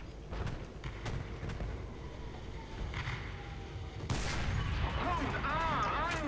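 Artillery fire in War Thunder while playing a Type 97 Chi-Ha tank, heard as distant booms and rumbling battle noise under a steady engine drone, swelling louder for the last two seconds.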